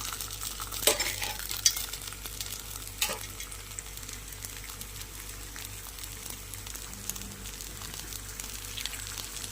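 Sweet potato paniyaram fries in ghee in a pan with a soft, steady sizzle, punctuated by a few sharp clinks and scrapes of a utensil.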